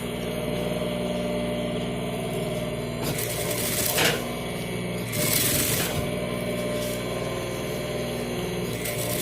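Sewing machine stitching a zipper onto a faux leather jacket sleeve cuff: a steady mechanical hum with tonal whine, swelling into louder bursts of rapid stitching twice, close by and without talk.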